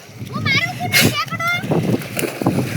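Someone leaps into a river with a sharp, close splash midway, surrounded by excited children's voices talking and shouting before and after.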